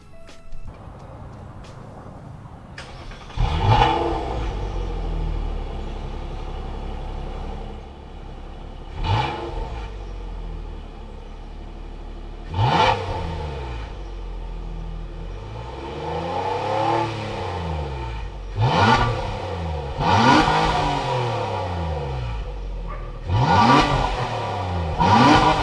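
A 2019 Nissan Maxima Platinum's engine cranks and starts, then revs up repeatedly in loud rising and falling bursts before settling back to idle.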